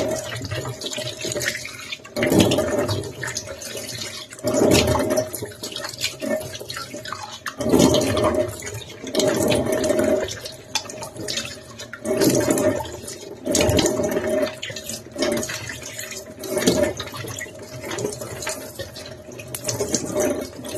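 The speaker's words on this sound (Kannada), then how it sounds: "ಇವಾಗ ಫೇಸ್ ವಾಶ್ ಮಾಡ್ತಾ ಇದ್ದೀನಿ." A face pack is washed off with water, giving repeated splashing bursts every two to three seconds. Each one is a close, fairly loud rush of water against the face and hands.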